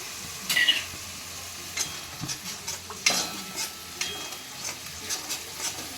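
Ginger-garlic paste and onion paste fry softly in a pan for egg korma while a spatula stirs them in occasional light scrapes over a low, steady sizzle.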